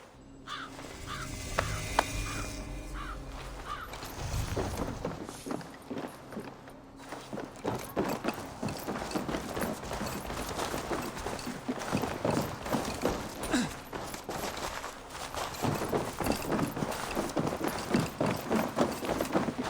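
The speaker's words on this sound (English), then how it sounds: "Basim, Eivor, to horse!" Rapid, rhythmic hoofbeats of a galloping horse in the video game Assassin's Creed Valhalla pound on without pause, with a few harsh caws near the start.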